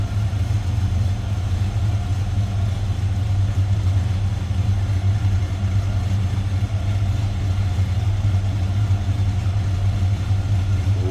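A 1972 Chevrolet C10 custom truck idles steadily, its engine giving a deep, even, lumpy rumble heard from close behind, with no talk over it.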